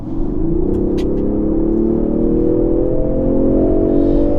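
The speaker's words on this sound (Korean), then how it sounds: "최대한 이 엔진의 힘을 받아서 질주할 수 있겠죠? 달려볼게요." A Range Rover Sport P400 engine revs hard and climbs steadily in pitch as the SUV accelerates, a loud sustained roar from inside the car.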